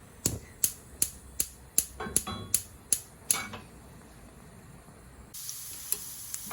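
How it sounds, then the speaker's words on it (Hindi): About nine sharp taps ring out in a steady rhythm, then desi ghee in a frying pan starts sizzling steadily for a tempering near the end, close and moderately loud. "मैं देसी घी का तड़का लगा रही हूँ"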